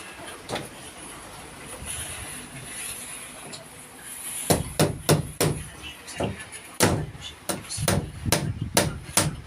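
Hammer blows driving nails during house carpentry, a few scattered hits early, then a steady series of loud, close, sharp strikes with some irregular gaps.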